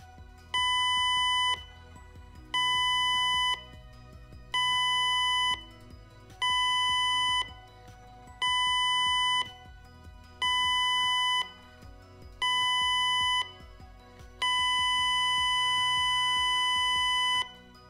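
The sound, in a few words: ship general emergency alarm: seven short blasts, one long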